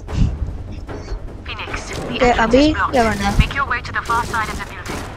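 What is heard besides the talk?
gunfire in a video game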